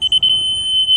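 A laser level beeps as it lines up with a mark, giving a brief stuttered pulse of high electronic tones that settles into one steady, piercing tone held close and loud.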